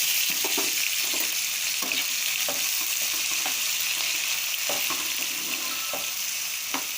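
Chopped onion, potato and green chili fry in oil already used for frying peanuts, a loud, continuous close-up sizzle with regular scraping strokes of a spatula and no speech.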